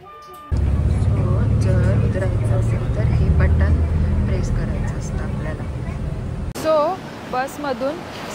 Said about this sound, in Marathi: सो येस, ही बस आहे, त्याच्यामध्ये मी आता चढणार आहे.